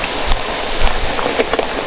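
Heavy rain falls on a slick road in a continuous broadband hiss, with scattered louder drips and splashes rising out of the steady downpour.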